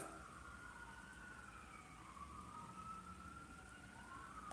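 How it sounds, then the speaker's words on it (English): Distant emergency vehicle sirens wail outside, faint and steady with a slowly rising and falling tone heard through a room at night, with no talking over them. "Can y'all hear the sirens?"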